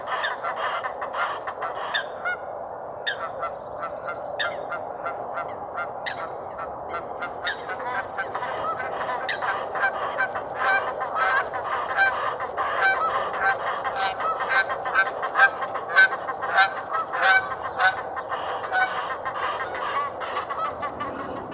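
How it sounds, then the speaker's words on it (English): A flock of Egyptian geese honks continuously nearby on a frosty winter morning, harsh repeated calls overlapping and growing more insistent toward the end. "The relative peace of the morning was sharply broken by these Egyptian geese."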